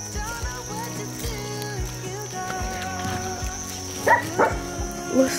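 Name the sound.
dog barking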